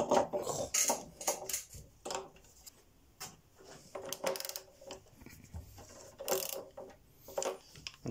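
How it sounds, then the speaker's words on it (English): A long ratchet with a 32mm socket works the fork nut on a Honda CBR 929/900RR Fireblade track bike, producing close, irregular clicks and clunks in short bursts with pauses between. "I've got this on a big long ratchet, holding on to the clip-on"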